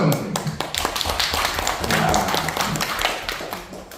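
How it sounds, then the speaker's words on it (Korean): A seated audience at a speech course event gives a hearty round of applause, a close, dense patter of many hands clapping steadily throughout. "큰 박수 한번 주세요."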